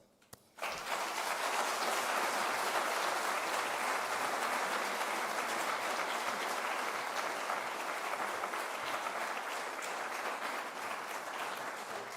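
Sustained audience applause welcomes David Frum to the stage at a lecture event, starting abruptly and holding steady, full and loud for about twelve seconds before tapering slightly.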